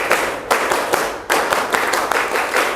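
Classroom of students performs a rhythmic concentration clapping routine, sharp bursts of group claps in a patterned sequence, loud and close.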